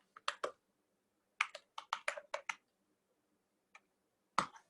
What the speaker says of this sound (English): type in what I'm typing in right now